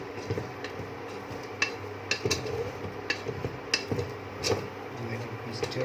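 Pieces of mutton being stir-fried in a pan for a dry fry make a soft, continuous sizzle, broken by repeated scraping clinks of a utensil against the pan.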